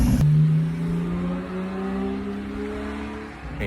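A twin-turbo Ferrari F12 fitted with an Inconel exhaust revs nearby, a sharp loud engine note that rises and holds in a smooth climbing drone before fading, no talk.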